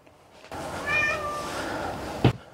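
A cat gives a single close, clear meow in a quiet room where a laptop and a portable power station sit, followed by a brief knock or thump.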